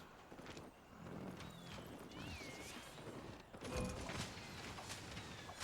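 Horse hooves clip-clopping in the video game Albion Online, a steady trotting patter mixed into busy game ambience, with a brief whinny-like call partway through and no talking.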